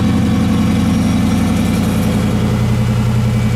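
Close and steady, a 500 hp HEMI V8 in a Jeep Wrangler JK idles with its exhaust closed, a low, even rumbling burble with no voices.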